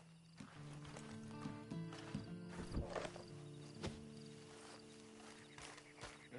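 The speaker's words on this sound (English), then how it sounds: "you better get on this horse" Hooves clip-clop faintly at a walking pace in the Western video game Red Dead Redemption 2, with low, steady background ambience and scattered thuds, and no clear speech.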